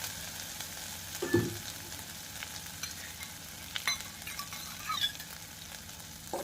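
Asafoetida and bay leaf frying in a pan for Bengali cholar dal: a quiet, continuous hiss of hot oil with occasional light stirring scrapes and one brief low knock, close by and without voices.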